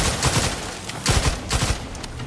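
Rapid gunfire in the shooter video game The Outer Worlds 2, several close bursts of shots cracking in quick succession with brief pauses between volleys, no speech over them.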